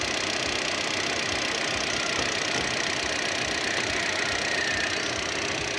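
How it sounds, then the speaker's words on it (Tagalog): An 8-month-old 2024 Kia Sonet's engine idles under the hood with a steady, even hum and a fine, constant mechanical chatter. The sound is close and loud, runs unbroken throughout and has no voices over it. "Normal naman yung andar na makina."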